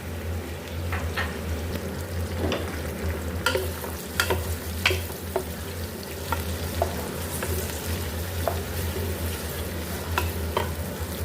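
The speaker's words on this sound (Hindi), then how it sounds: "प्याज को हमने फ्राई कर लेना है।" Onions sizzle and crackle in hot oil in a pan, with steady frying hiss and occasional sharp pops and stirring sounds.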